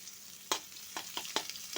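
Onions frying in oil give a quiet, steady sizzle, broken by a few sharp scraping clicks as they are stirred.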